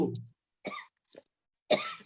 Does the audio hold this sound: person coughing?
yes